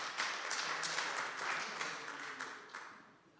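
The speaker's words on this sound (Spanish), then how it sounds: "Denle un aplauso al Señor por los chistes malos de su pastor." A church congregation claps in a short, fairly faint burst of applause that fades out toward the end, with no talking over it.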